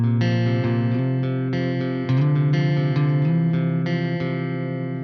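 An electric guitar on its middle pickup, push-pull engaged, plays through a Bogren BDM 410 (Marshall JVM410H) with reverb. Sustained chords ring out and shift every second or so, steady and close.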